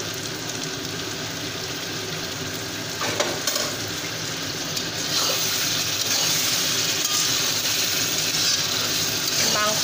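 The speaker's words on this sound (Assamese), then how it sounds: "এতিয়া মই আকৌ ইয়াতে অকণমান পানী দি" Water is poured into a pot of simmering goat meat curry, a steady close hiss and bubbling sizzle that swells louder partway through, with a faint voice in the background.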